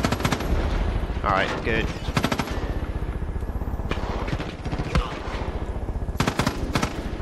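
Rapid bursts of automatic gunfire from the Far Cry 5 video game rattle loudly and close in repeated volleys, with someone speaking briefly over the shooting.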